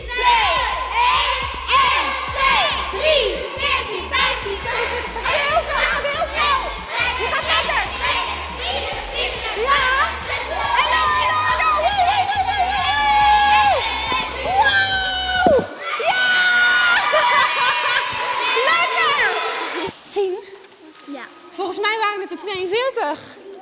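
A crowd of children shouts and cheers loudly and continuously for a contestant during a sports challenge, with excited, overlapping voices for about twenty seconds. The cheering then cuts off, leaving a few scattered voices.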